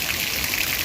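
Water trickles and splashes steadily from the pipe-fed trunk of an elephant-shaped fountain at Saheliyon Ki Bari in Udaipur, a continuous bright hiss close by, with no talk.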